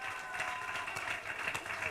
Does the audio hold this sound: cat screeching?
no